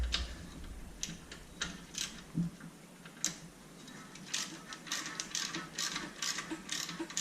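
A ratchet wrench loosening the 14mm fan-belt pivot bolt on a Jeep CJ engine, a series of quick clicking pawl bursts in irregular strokes, close and fairly quiet, with no talk.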